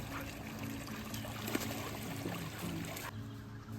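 Water poured outdoors at a woodland campsite in Kentucky, a steady faint trickle and splash running for a few seconds against quiet background ambience.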